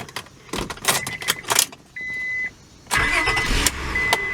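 A 1999 Honda Accord engine cranks and fires, with bursts of loud mechanical noise, a steady tonal chime, and keys jangling nearby before the idle settles in close up.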